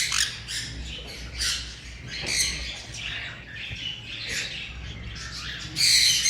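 Several yellow ringneck parrots, with rosellas nearby in an aviary, squawk loudly and repeatedly in harsh, overlapping bursts, the last calls the sharpest and loudest.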